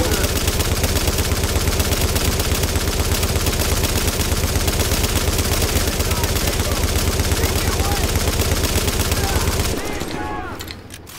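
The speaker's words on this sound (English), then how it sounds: "Whoa, turret's wrecking me." Sustained rapid automatic fire from a turret in The Division's Dark Zone, loud and continuous for about ten seconds before cutting off, with a few faint fading tails at the end.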